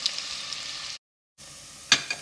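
Onions frying in canola oil, a steady close sizzle that breaks off into a short silence, then resumes more quietly with a sharp stir or scrape near the end.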